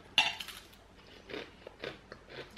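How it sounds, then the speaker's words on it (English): Fried green plantains crunch loudly in one crisp bite close up, followed by a few softer chewing crunches at breakfast. "You hear that crunch?"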